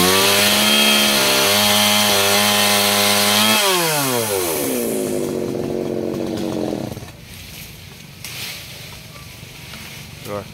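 A G4200 chainsaw cutting a golden-flower acacia tree runs loud and close, its engine revving high with shifting pitch, then dropping away to idle and quiet near the end.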